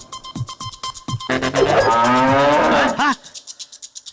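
A bull bellowing on a farm, one long loud moo rising and holding for about two seconds, preceded and followed by rhythmic tapping and clicking sounds.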